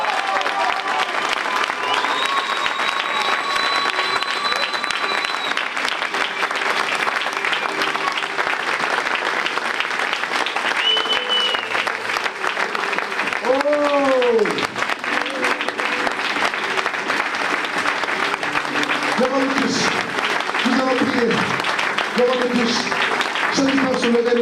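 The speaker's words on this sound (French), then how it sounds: "Est-ce qu'on peut l'acclamer très fort?" A church congregation applauds loudly and without a break for more than twenty seconds. A few voices and cheers rise through the clapping toward the end.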